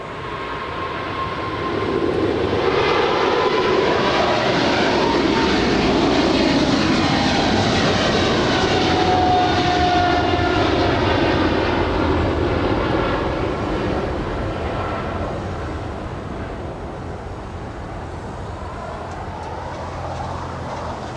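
A Boeing 777 takes off at Los Angeles International Airport, a loud sustained jet roar that builds over the first seconds, holds strong, then slowly fades as the aircraft climbs away. No speech is heard.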